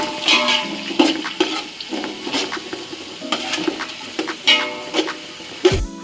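Chopped onions frying in a pan for chicken biryani, a continuous sizzle broken by frequent spatula stirs and pan scrapes, close and fairly loud, with no one speaking.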